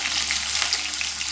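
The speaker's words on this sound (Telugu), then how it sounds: "ఇది బాగా ఫ్రై చేసుకుంటున్నానండి" Onions fry in oil in a pan for capsicum paneer curry, a brief, steady close sizzle with a few small pops and no talk.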